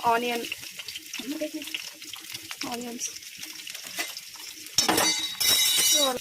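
Onions and tomatoes sizzle and fry in oil in a kadai, with a spoon stirring and clinking against the pan; a voice talks over the steady frying, which turns louder and brighter near the end.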